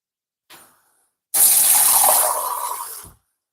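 Cold tap water runs into a cup of very hot tea, a short splash followed by about two seconds of steady hissing flow that then stops, close by and without talk.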